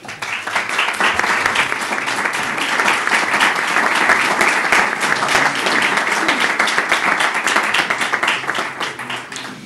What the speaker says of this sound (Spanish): la fiscal general del Estado se merece ese aplauso bien fuerte